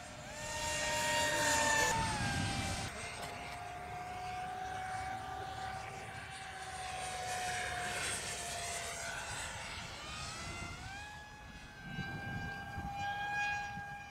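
A small X-Jet model aircraft powered by two brushed motors flies, its steady high-pitched whine shifting in pitch as it passes, with gusty wind-like rumble underneath and no talking.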